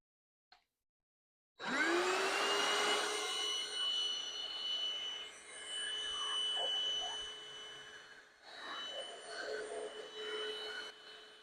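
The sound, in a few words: 6-in-1 cordless vacuum cleaner running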